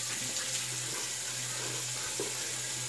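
Tap water running steadily while a safety razor is rinsed during a shave, a close, continuous hiss of flowing water with a low hum beneath and a few faint knocks, without talk.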